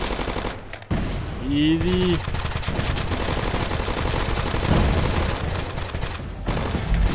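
Rapid gunfire from the Roblox zombie-survival shooter Zombie Uprising, a dense, continuous stream of bursts at steady loudness, with a voice speaking briefly over it.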